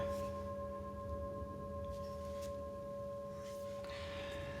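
A metal singing bowl hums with a steady, sustained ring of several clear overtones. The tone is quiet and even throughout.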